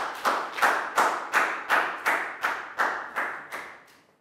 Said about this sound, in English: Round of applause for Bang Bon.